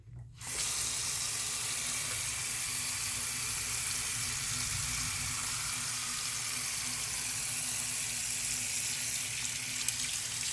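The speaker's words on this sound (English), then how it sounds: "I'm closing the faucet." Tap water runs steadily from a faucet into a sink, a continuous broadband splashing hiss that starts abruptly and holds at an even level throughout, close by with no talking.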